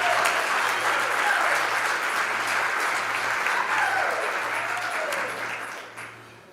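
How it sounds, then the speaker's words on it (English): A congregation at a morning worship service gives sustained applause, a dense, fairly close clatter of clapping that holds steady for several seconds before tapering off at the end. "Applause for all of you,"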